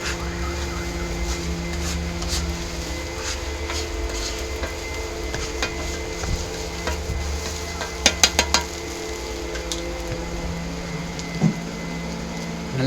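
Parotta sizzles steadily on a hot griddle at a street food stall in Trichy while being flipped, under a constant kitchen hum, with a brief cluster of metallic clinks midway and another knock near the end.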